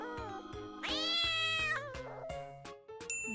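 A big orange pet cat meows repeatedly up close, a series of clear, drawn-out and rising cries with short gaps, heard alone without any talking.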